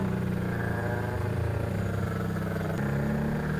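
A Kawasaki ZX motorcycle engine hums steadily on the move, loud and close, with its pitch shifting slightly as the rider changes throttle, and no voices over it.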